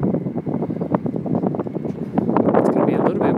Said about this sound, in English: It's going to be a little bit windy.